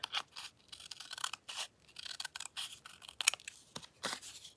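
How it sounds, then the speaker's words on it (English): Scissors snip off the edges of a mini journal made from an old paper envelope, a run of short crisp cutting bursts with brief pauses between them, close and fairly quiet. "I'm going to cut these edges off."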